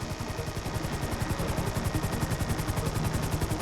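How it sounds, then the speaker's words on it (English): A helicopter hovers steadily in GTA V, its rotor a dense, continuous thrum with rapid regular blade pulses, loud and close throughout. "Just hold the chopper here."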